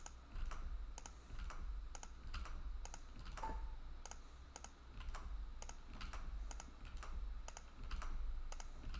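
Steady typing on a computer keyboard while creating files: quick, regular key clicks at close range over a faint background hum, with no voices.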